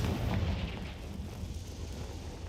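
A low, rumbling blast from the Confringo blasting spell in the Hogwarts Legacy video game, a deep boom that fades into a dull rolling tail with no voices over it.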